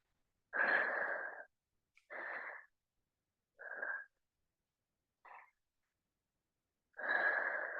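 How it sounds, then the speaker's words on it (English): Deep breaths during a standing yoga forward fold stretch, five slow airy inhales and exhales separated by silence, close and fairly quiet. "Couple of breaths here."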